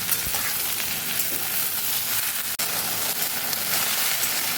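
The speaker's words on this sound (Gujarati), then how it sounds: "એટલે કે ફ્રાય કરી લેવાના છે।" Okra fries in a hot pan with a loud, continuous close-up sizzle. One brief sharp clink sounds partway through.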